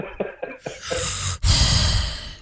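Loud, exaggerated breathing imitated by a voice: a few short puffs, then long heavy rasping breaths close to the microphone.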